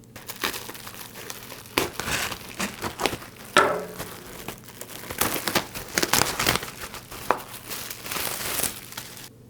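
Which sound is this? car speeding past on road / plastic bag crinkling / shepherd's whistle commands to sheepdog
plastic bag crinkling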